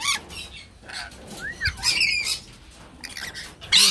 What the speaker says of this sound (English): A couple of birds up there under my hair.